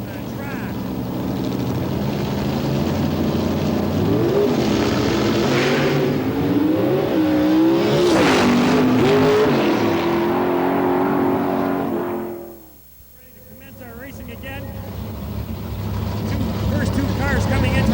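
Pro mod drag race cars roar loudly at a 1992 event, engines revving and rising in pitch for about twelve seconds before a sudden drop, then building again, with an announcer talking over the noise.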